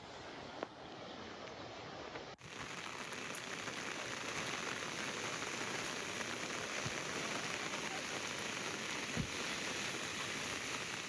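Heavy monsoon rain in Buldhana, Maharashtra, sets in after a faint, quiet start and becomes a dense, steady roar of downpour with no voices.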